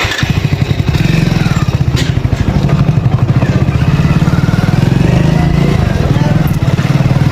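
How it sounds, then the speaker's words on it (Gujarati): A motorcycle engine idles steadily after starting, a loud, close, rapid low thumping rhythm that continues without break. "હા તો બાઇક આપણું ચાલુ થઈ ગયું."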